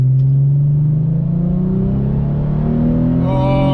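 A V6 3.5L Dodge Charger tuned with a DiabloSport i3 launching off the line at a drag race at Orlando Speed World, a loud close engine rising steadily in pitch as it accelerates, no talk.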